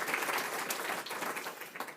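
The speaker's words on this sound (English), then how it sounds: "a round of applause, please" An audience at an International Women's Day celebration event applauds two speakers, a dense, sustained wash of many hands clapping together at moderate loudness without spoken words.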